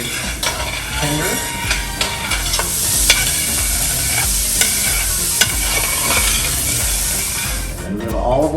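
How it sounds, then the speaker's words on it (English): Chopped onion sautéing in olive oil in a pan, a steady dense sizzle and frying hiss with frequent stirring scrapes and occasional utensil clinks, close and continuous throughout. "we will saute this in the olive oil until it is tender"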